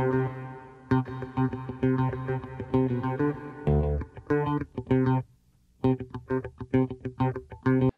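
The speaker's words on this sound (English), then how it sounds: "he plays the first little riff, which is the first 5 seconds here, with quite a lot of reverb on it" A plucked bass riff repeating steady notes, washed in heavy reverb at first, then drier and punchier with a brief pause midway.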